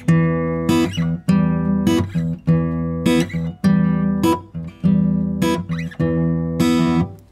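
Guitar playing the first four bars of a blues riff, a repeating bluesy figure of ringing low notes punctuated by sharp plucked accents at a steady rhythm, close and loud with no talking.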